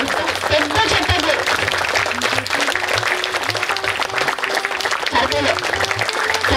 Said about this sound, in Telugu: పెద్ద చప్పట్లు